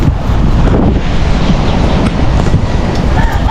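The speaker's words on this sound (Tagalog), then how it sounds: "Pero malalaki yung alon." Heavy flood waters surge and crash in large waves, a loud continuous roar mixed with strong wind buffeting the microphone, with no speech.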